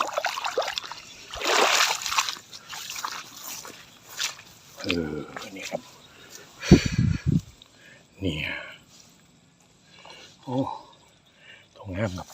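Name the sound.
hooked fish splashing as it is pulled from the stream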